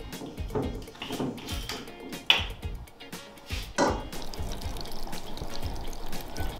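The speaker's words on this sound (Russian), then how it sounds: "Заливаем 300 мл саке." Sake pours and splashes into a pot of pork and ginger slices up close, with uneven gurgling bursts and a few drips in between.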